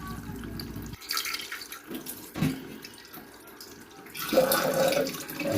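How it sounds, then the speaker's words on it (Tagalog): Tap water runs and splashes into a container for soaking okra, with irregular bursts of pouring and dripping that grow louder and fuller near the end, close and with no talk. "kukuha tayong tubig, lalagyan natin ng tubig ito"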